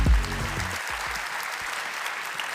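Audience applause in a conference plenary hall for Xavier Combes, the interpreter, a steady wash of many hands clapping that fills the clip at moderate level, with a brief voice at the very start.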